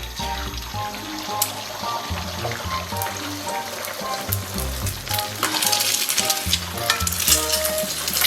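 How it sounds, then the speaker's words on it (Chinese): An egg fries in moderately hot oil in a wok, producing a loud, bright, continuous sizzle and spatter close by, with occasional clinks and scrapes of a spatula. "咱们给锅里边稍微来点油，油温6成热啊，咱们把鸡蛋给它下里边"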